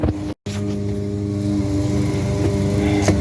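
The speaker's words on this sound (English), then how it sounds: "So I'm gonna drill that out," Power drill boring out a metal bracket for an automotive evap canister, a steady loud whirring drone that runs almost without break, with one brief cut near the start.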